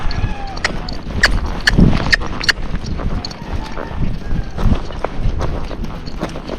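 A young Missouri Fox Trotter gelding walks with hooves clip-clopping in a steady rhythm at close range, with light wind buffeting the microphone and a few sharper hoof strikes standing out.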